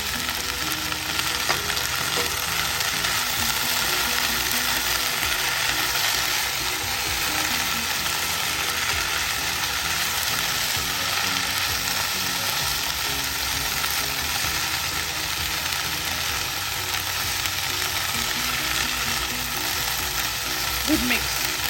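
Okra and onion fry steadily in a little oil in an uncovered pan over medium heat, a continuous close sizzle with faint stirring clicks and no voices.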